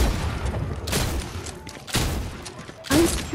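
Gunfire in the Fortnite video game comes in a few sharp, loud bursts spaced about a second apart over a steady background of game noise.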